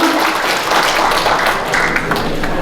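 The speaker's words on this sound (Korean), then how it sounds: "박수 한번 주세요." A crowd applauds loudly and steadily, dense clapping filling the space without a break.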